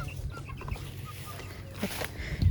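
Hens cluck and murmur around a henhouse on a hot day, soft scattered calls at close range over a low rumble, with a louder squawk near the end.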